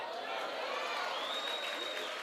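A church congregation applauds steadily, a soft, even patter of many hands clapping at a distance under a faint voice.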